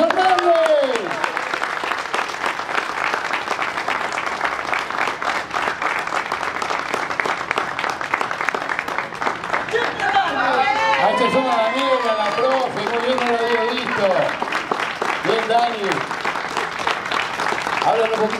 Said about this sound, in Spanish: ¡Aplausos para Rami Fernández!